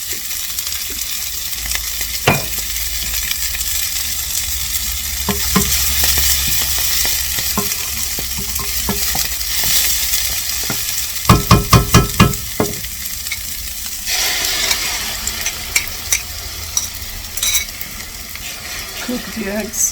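Eggs and Swiss chard fry in oil in a pan with a continuous bright sizzle, broken by clusters of scraping stirring clicks and utensil taps, close up with no talking.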